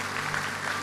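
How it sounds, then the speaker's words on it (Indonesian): Church congregation applauding in worship, a brief burst of crowd clapping under a low steady hum, fairly loud and even for under a second. "Beri tepuk tangan yang meriah buat Tuhan."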